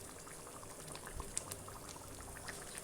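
Gram flour batter is poured into thin, bubbling potato masala for poori; a faint, steady simmering hiss and soft liquid trickle sit low and quiet with no talking.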